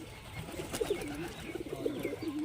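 Murshidabadi pigeons cooing in soft, repeated low warbling calls, a few birds close by over a noisy outdoor background with scattered rustling, no talking.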